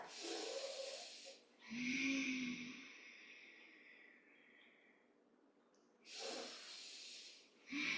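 Deep yoga breathing: a few long, breathy inhales and exhales, close and airy, separated by a quieter stretch, with no talking.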